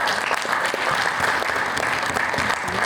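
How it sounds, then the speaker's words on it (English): Sustained applause from an audience at a youth congress session, a dense steady wash of many hands clapping throughout, fairly loud and with no talking over it. "So let's give them a round of applause."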